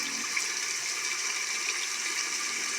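Running water rinses meat, a steady rushing, splashing stream that stays continuous and fairly close throughout.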